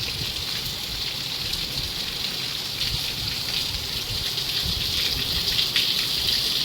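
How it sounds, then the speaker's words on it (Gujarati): Heavy rain pours down in a steady, loud, dense hiss and patter that continues unbroken throughout, with no voices. "વરસાદ ચાલુ થઈ ગયો છે મસ્ત મજાનો"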